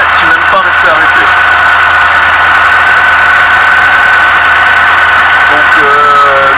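A Renault 30 TX engine with Bosch mechanical injection idles steadily and close up, a continuous smooth hum with a slight roughness, running unbroken throughout.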